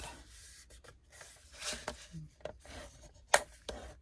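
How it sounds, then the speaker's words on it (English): Paper corner being folded up and creased for a blossom album craft, soft scattered rustles and rubbing scrapes with one sharp crisp crackle near the end, quiet and close. "So then you want to fold the outside corner up,"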